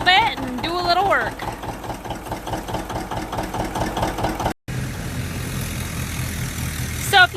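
A John Deere tractor engine idles while warming up on a winter farm, a steady rhythmic diesel chug close by with a brief dropout, and someone talks over it at the start.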